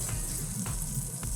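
Steak sizzles on a flat top grill, a soft, steady frying hiss with faint stirring noises, quiet and close.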